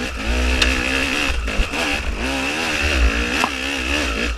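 Enduro motorcycle engine revving hard and close while climbing a hill, a steady loud drone rising and falling in pitch as the throttle opens and eases, with brief dips around gear or clutch changes.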